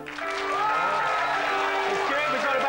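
Studio audience applauding to a clapometer vote on a comedy show, a sustained swell of clapping with shouts and whoops mixed in, fairly loud and continuous.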